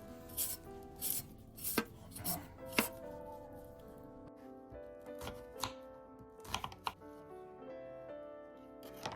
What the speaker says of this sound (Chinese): 把蔬菜都洗净切好